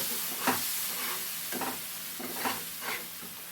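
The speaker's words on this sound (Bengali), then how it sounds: "সব মশলাগুলোকে একটু নেড়ে চেড়ে নিচ্ছি" A spoon stirs a spice mixture in a pan while cooking Bengali bhola fish tel jhal, giving a handful of distinct scraping strokes over a soft, steady sizzle.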